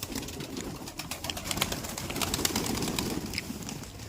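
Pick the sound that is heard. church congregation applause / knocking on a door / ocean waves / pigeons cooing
pigeons cooing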